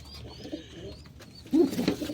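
Pigeons in a loft housing a breeding pair coo softly, with a louder burst of low throaty cooing near the end over a faint background murmur.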